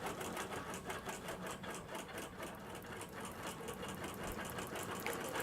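A Bernina Longa sewing machine stitches in the ditch with a fast, even, rhythmic needle chatter and motor hum, running steadily and close throughout without talk.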